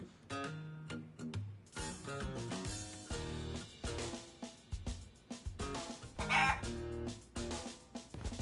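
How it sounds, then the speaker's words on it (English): Chicken clucking in the video game Yakuza, heard among busy game sound effects and music with rhythmic bursts and a louder cluck near the end, no talk. "Why is there a chicken here?"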